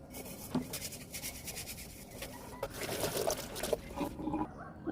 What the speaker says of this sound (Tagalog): Hugasan natin yung mga karurat.